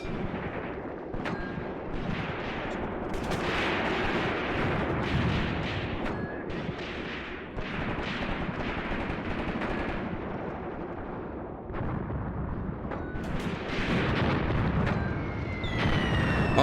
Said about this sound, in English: they've just got so much machine gun fire over here. Unrivaled machine gun fire.